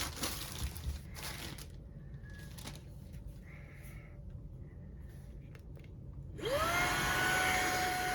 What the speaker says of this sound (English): right now we have the air blower and it's also sucking